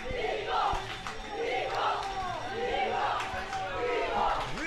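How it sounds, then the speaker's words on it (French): Crowd at a U17 football final cheers and shouts in a sustained roar, with rising and falling chant-like calls and a commentator talking over it. "Non, Kevin, ce n'est pas pour vous ces acclamations."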